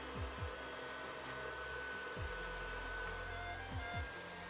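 A stand mixer runs at medium speed, whipping vegan brookie batter until foamy, giving a steady whirring drone with a few brief low thumps as the motor load shifts, loud and continuous with no talking.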